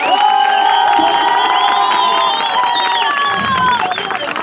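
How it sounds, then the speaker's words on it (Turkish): A crowd at a henna night in Çamlıköy, Ladik, Samsun cheers and claps loudly, with whoops and shouts over sustained tonal music or singing throughout. "Bir güzel bir alkış alalım Derin Hanım'a."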